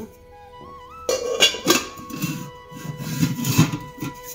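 Large antique bronze stacked pots clank and clink together as they are handled and stacked, several bright knocks in quick succession after a quiet start.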